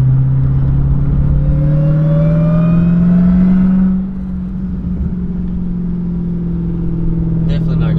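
A Dodge Hellcat with a broken transmission whines and drones at idle or low speed, a rising tonal whir over a steady engine rumble heard from inside the car, easing off partway through.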